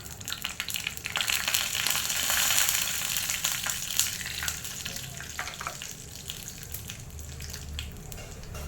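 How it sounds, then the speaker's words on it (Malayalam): Mustard seeds and cumin sizzle in hot oil in a kadai, a steady crackling hiss with small pops throughout, fairly close and with no talk. "എണ്ണ ചൂടായിട്ടുണ്ട്. കടുകും ജീരകം ഇട്ട് കൊടുക്കാം."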